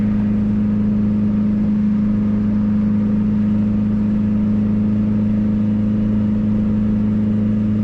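A turbocharged Honda Civic Si with a hood-exit exhaust, its engine a loud, steady, droning hum throughout, with no speech.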